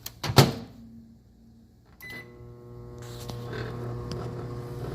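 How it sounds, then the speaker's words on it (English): A microwave oven melting cheese for a hot pocket and nachos: a sharp clatter at the start, then after a pause a steady electrical hum with whirring fan noise settles in and continues, close and moderately loud. "I am going to pop this in the microwave, using this one, for just about 30 seconds"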